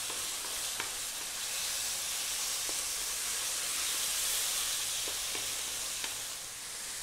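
Chicken chow mein stir-fries in a pan over fairly high heat, giving a steady, close hiss and sizzle with a few faint clicks of the utensil against the pan and no talking.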